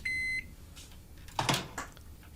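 A microwave oven gives a loud, clear electronic beep at the start, followed by a quieter stretch with a few short clattering, handling-like sounds.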